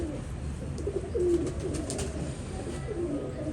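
A large female pigeon coos softly in a loft, low murmuring calls rising a few times over a quiet background, close by and fairly faint.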